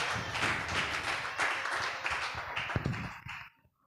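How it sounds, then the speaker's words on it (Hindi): A church congregation claps hard together in thanks to the Lord. A dense, steady rush of applause lasts about three and a half seconds and then stops abruptly. "आप लोग जोरदार ताली बजा के प्रभु धन्यवाद दीजिए।"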